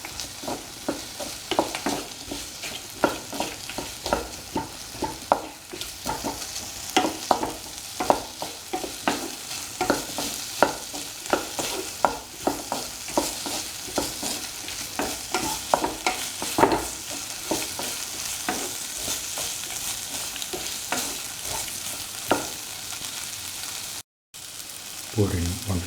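Ginger potato stew sizzles and fries in a pan as a spoon stirs it, giving a steady crackling hiss punctuated by frequent scraping clicks throughout, close and fairly loud.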